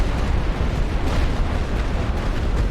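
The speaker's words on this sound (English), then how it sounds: "So I'm gonna hit these guys with artillery." Artillery explosions in The Great War: Western Front, a continuous rumbling barrage of deep booms and bursts filling the whole stretch, loud and dense with no voices.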